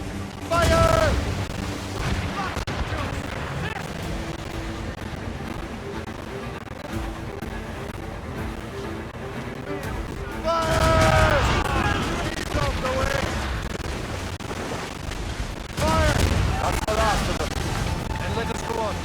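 Ship cannon volleys in Assassin's Creed Rogue: heavy booms rumble out in bursts near the start, around the middle and toward the end, with shouted orders and voices between the blasts.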